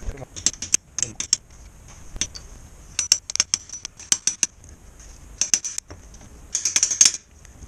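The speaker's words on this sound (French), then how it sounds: "Et maintenant il faut l'enfoncer proprement. Et pour ça il nous faut une douille." A socket tapping and pressing a new seal into a BMW gearbox housing, giving sharp metallic clicks and knocks in irregular clusters, close and moderately loud, with no talking.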